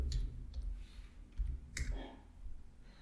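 Someone types on a computer keyboard, a few quiet, scattered key clicks against a low background hum with no talking.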